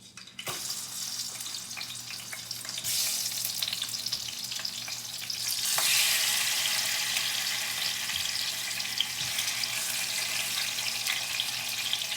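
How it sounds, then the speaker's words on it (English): Eggplant slices fry in a pan with a loud, steady sizzle that swells partway through, broken by occasional stirring clinks, no voices. "So now we're frying them, of course, like this."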